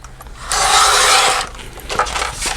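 Paper insert for a Halloween traveler's notebook being trimmed down to seven inches in height, a close, steady scraping cut lasting about a second, followed by fainter rustling and handling of the paper.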